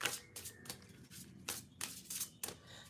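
Several quick bursts of tarot cards being shuffled and riffled close by, in short irregular rounds with brief pauses between them.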